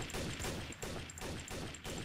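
Rapid gunfire in Trouble in Terrorist Town, a dense run of loud, close shots fired in quick bursts with brief gaps, filling the whole stretch with no talking.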